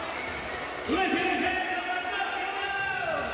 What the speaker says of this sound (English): The crowd's finally into it.